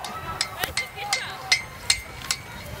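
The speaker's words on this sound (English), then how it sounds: "They've got aluminium horseshoes, they've got an anvil, hammer and tongs." Hammer striking aluminium horseshoes on an anvil during a young farmer competition, a series of ringing metallic blows at an uneven pace, with faint background noise from the event.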